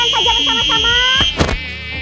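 A housefly buzzes loudly and close during a fly-catching contest, a steady high whine with shifting pitch that cuts off abruptly after about a second and a half.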